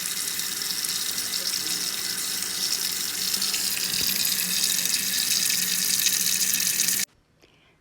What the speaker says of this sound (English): I'll just fill this bowl up with water